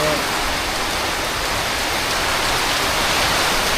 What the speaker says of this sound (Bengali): মুসুল ধারে বৃষ্টি হচ্ছে অনেক বেশি বৃষ্টি হচ্ছে